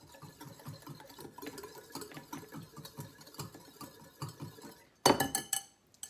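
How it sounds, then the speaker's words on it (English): Buffalo sauce being whisked in a bowl for coating cauliflower bites, a rapid, steady clinking and scraping rhythm of the whisk against the bowl, close and moderately loud, ending in a louder burst of clatter. "So you just whisk it up."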